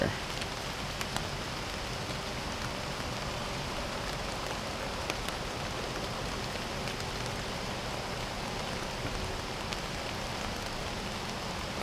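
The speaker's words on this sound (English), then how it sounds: "rain's coming down" Rain falls steadily around a hunting stand in the woods, an even, constant hiss of drops on surfaces that lasts the whole stretch and is fairly quiet.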